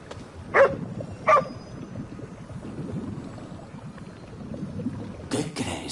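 Dog in Ghostwire Tokyo, two sharp close barks near the start over a low rustling, munching background, followed by a brief burst of noise at the end.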